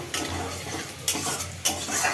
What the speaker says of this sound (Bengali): আলু এই যে তেলে দিয়ে দিয়েছি